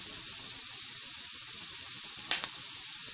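Chopped onions sizzle steadily in hot oil for chilli chicken masala, a soft continuous frying hiss with a couple of brief stirring clinks near the end.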